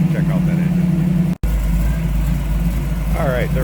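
The engine of a 1929 Ford Model A street rod, a 283 V8, runs on a steady high idle close by, a continuous low hum with a brief dropout partway through, and a voice speaks faintly over it.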